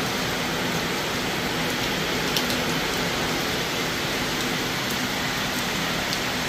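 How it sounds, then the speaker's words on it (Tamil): Heavy rain pours down steadily in Dindigul, a dense unbroken hiss with no pauses and no voices. "மழை கொஞ்சம் கூட நின்ற பாடு இல்லை."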